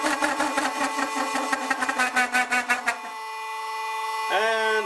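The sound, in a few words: old tool bit chattering on a lathe at 400 RPM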